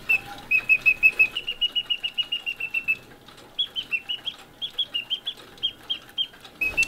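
A clockwork singing bird cage, wound up and driven by bellows, chirps out a mimicked bird call: rapid, evenly spaced high peeps in long runs, a brief pause, then more runs, clear and close with no talking.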